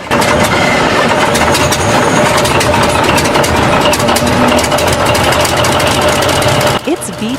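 A Paxman V12 diesel engine runs loud and steady, a rough rumbling drone with knocking texture throughout, dropping off near the end as other noises cut in.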